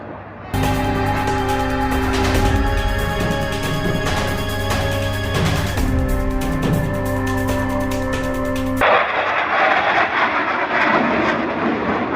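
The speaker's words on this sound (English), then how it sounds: "Observe as both pilots sustain 6 times the force of gravity to cross their aircraft over show center" Two Navy Blue Angels jets crossing over show center at an air force base, a loud sustained engine roar with strong steady tones that cuts off abruptly into a broad rushing wash.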